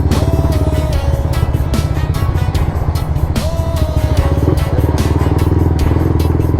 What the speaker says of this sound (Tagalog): May kumakalampag talaga sa motor ko dito banda sa bandang harapan mga paps.